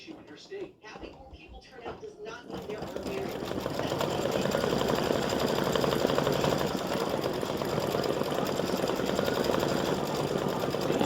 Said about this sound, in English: color number 5 is going to stitch the bottom straps